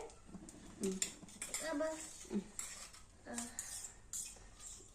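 A child mixes egg in a bowl, the utensil clinking and scraping against the dish in quick, uneven strokes, with faint speech in the background.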